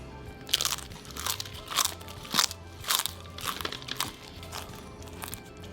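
Crunchy food chewed close up, a steady run of sharp crisp bites and crackles repeating about twice a second, with no talking.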